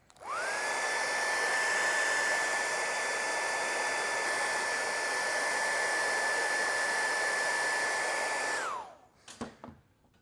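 Air blown by mouth through an atomiser spraying leather and vinyl paint makes a continuous close hiss with a steady whistling tone for about eight seconds, then cuts off, followed by a few faint clicks.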